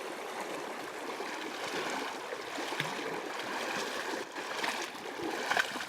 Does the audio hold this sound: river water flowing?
yes